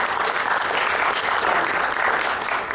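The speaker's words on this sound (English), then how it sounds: "big round of applause for everyone" Steady, dense applause from an audience at an academic equity event fills the space, a continuous wash of many hands clapping at even loudness throughout.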